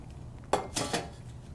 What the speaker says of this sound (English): I'm going to grab my baking pan